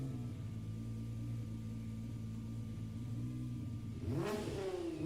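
Jaguar XJ220 engine in Gran Turismo 7, with a steady mid-pitched drone held for several seconds before a sudden rising rev near the end.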